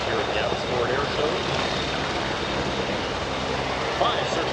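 A CH-149 Cormorant search and rescue helicopter of 442 Squadron flies at the Abbotsford Air Show, its rotor and engine making a steady, loud broadband roar that holds evenly throughout.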